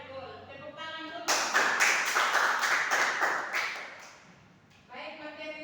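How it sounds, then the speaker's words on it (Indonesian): A classroom of students clapping hands in quick rhythmic bursts, close and fairly loud, with a voice speaking before and after the claps. "Tepuk tangan dulu"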